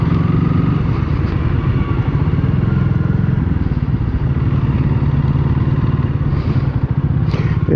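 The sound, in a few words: single cylinder motorcycle engine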